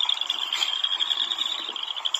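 At a warmer 45°F, boreal chorus frogs trill outdoors in a dense, continuous chorus of fast, rattling pulses that sounds steady and fairly loud throughout.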